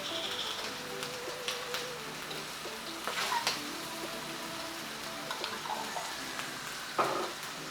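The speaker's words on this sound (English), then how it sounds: "And stir fry some more." Giant shrimp stir-fried with hoisin and soy sauce in a wok crackle with a soft, steady sizzle, punctuated by occasional spatula scrapes and clinks, fairly quiet overall.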